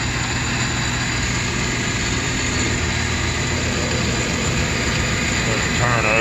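South Bend lathe turning the outside diameter of a part, a steady machine drone with a whirring, grinding tone that holds constant throughout.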